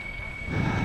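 Steady engine whine of an E-flite SU-30 twin 70mm electric ducted-fan model jet taxiing along the ground, growing slightly louder toward the end, heard at moderate distance.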